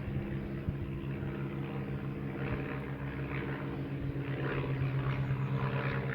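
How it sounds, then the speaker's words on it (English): A low, steady propeller engine drone from an old biplane hums overhead throughout, fairly loud and constant with slight swells, no voices. "It's a biplane. It's a biplane, an old biplane."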